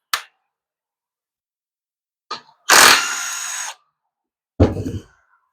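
A power tool zips out 8mm bolts from speed sensors on a 5-45RFE transmission case in a workshop, with short separated bursts: a brief buzz, a stronger one-second whir, then a final rattling spin.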